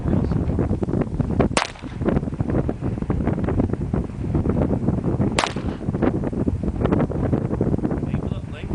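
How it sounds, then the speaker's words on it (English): Two sharp pistol gunshots at an outdoor shooting session, several seconds apart, each a loud sudden crack heard over constant gusty wind noise buffeting the microphone. "Just pull the trigger real slow."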